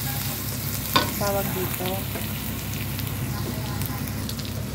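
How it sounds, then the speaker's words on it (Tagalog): Ginger, garlic and onion sizzle in an oiled pan, a steady bright frying hiss with a sharp clatter of a utensil early on, while someone speaks briefly over the cooking. "una yung luya, tapos bawang at sibuyas"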